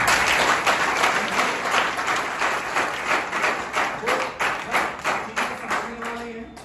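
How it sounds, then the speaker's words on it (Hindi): An audience at a company business seminar claps loudly and steadily throughout, a dense wash of many hands with rhythmic swells and no speech over it. "तो मैं चाहता हूँ आप भी इंटरप्रेन्योर बनने वाले पर अपने लिए जोरदार ताली बजाओ।"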